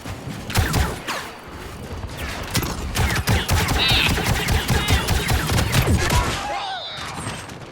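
Rapid bursts of turret gunfire ring out in a Star Wars Battlefront II supremacy battle on Felucia, dense and continuous over several seconds, layered with explosions and chaotic battle noise.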